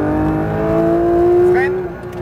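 Car engine revving hard at full throttle in third gear on a track or driving course, a steady rising harmonic drone that climbs in pitch before easing, with speech over it.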